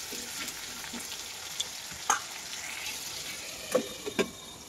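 Potato pieces fry with salt in a covered pan. A steady sizzle continues throughout, with a few sharp clinks and knocks near the end, and no talk is heard.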